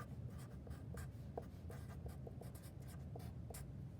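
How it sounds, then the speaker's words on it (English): Pen or marker scratching out a maths formula on paper, a steady run of small strokes and taps lasting several seconds, close and quiet with no talking. "first thing I do is write down the formula."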